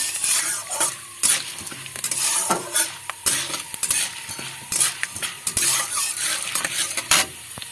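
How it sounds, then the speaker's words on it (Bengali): Raw peanuts are stir-fried in a pan over low heat, with a spatula scraping and knocking the metal in frequent irregular strokes above a softer background sizzle, close and clear. "কাঁচা বাদাম বাদামটা খুব ভেজে নেব"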